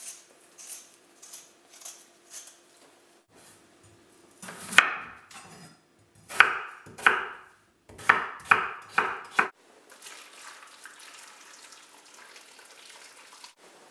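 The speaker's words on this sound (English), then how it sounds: "I'm just going to quickly peel the potatoes and chop them up quite small" A knife chopping peeled potatoes on a board: light taps at first, then a run of loud, sharp, evenly spaced chops close by, followed by softer rustling and scraping, with no talking.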